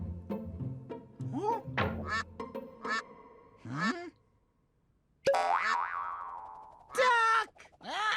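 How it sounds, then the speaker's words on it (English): A cartoonish duck quacks among springy boing effects in a toddler animal and surprise egg show, with short bright calls standing out clearly after a brief quiet gap. "Duck!"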